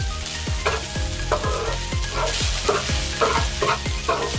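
Yakisoba noodles with pork cracklings frying loudly in a hot pan while being stirred, with repeated scraping strokes of the spatula over a steady sizzle, close and alone.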